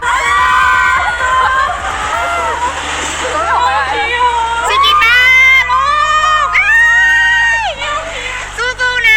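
A crowd of fans screams and cheers loudly and continuously, with high shrieking voices rising in waves over steady low background music.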